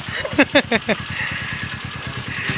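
A motorcycle idles close by with a steady low, even putter throughout, while a few short voice bursts cut in near the start.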